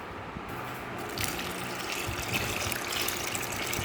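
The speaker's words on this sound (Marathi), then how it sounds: "आता दुसऱ्यांदा परत पाणी टाकतं आहे" Water pours onto freshly churned homemade cow's-milk butter during village-style ghee-making, a faint, soft gush that swells after a quiet start and runs steadily to the end.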